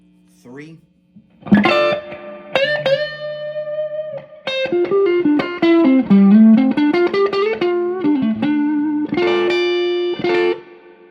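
Electric guitar through a Fender Blues Junior amp with heavy spring reverb, neck pickup, playing single notes and short phrases. Each note rings out with a long, washy tail, loud and close, with no talk.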